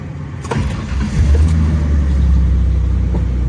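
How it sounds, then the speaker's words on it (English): A 1995-2001 Ford Explorer engine cranks briefly, then catches and settles into a loud, steady idle rumble close by. "we're gonna start up the car and see how everything feels"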